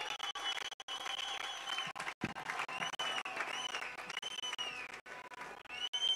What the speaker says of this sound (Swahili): Ongeza makofi.